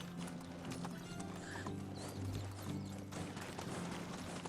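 Horse hooves clip-clop in the video game Medieval Dynasty. A steady run of hoofbeats sits under a busy, noisy game soundscape at moderate loudness, with no voice over it.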